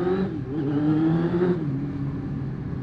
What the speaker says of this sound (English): A prat like me, with a noisy exhaust.